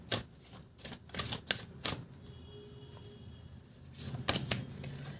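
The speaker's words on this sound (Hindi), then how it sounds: "मेजर अरकाना से देख लेते हैं कल रात की क्या फीलिंग्स थी इनकी। एक कार्ड निकालेंगे" A single card is drawn from a Major Arcana tarot deck, giving a few crisp, close papery snaps and flicks in quick clusters, then quieter handling between them, with no talking.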